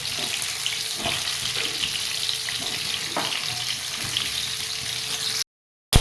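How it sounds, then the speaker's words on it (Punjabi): Whole amla gooseberries fry in hot oil in a pan for pickle, a steady, close, dense sizzle with a few faint clinks of stirring, then a sudden cut to silence near the end. "ਇਹਨੂੰ ਆਪਾਂ ਚੰਗੀ ਤਰ੍ਹਾਂ ਪਹਿਲਾਂ ਥੋੜਾ ਥੋੜਾ ਫਰਾਈ ਕਰ ਲਵਾਂਗੇ"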